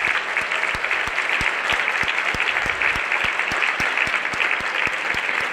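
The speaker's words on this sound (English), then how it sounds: "can we please give a warm round of applause to Ruth and the service staff" An audience gives a warm round of applause to the service staff at a conference session, a steady wash of clapping with a few sharp, close claps repeating at a brisk rhythm.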